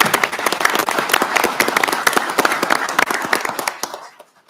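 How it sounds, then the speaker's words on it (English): Audience applause at a state transportation meeting, a dense steady patter of many hands at full strength before tapering off and fading out in the final half second. "Give them a round of applause."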